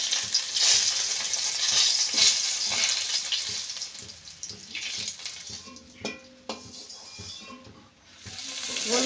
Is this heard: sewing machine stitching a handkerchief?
no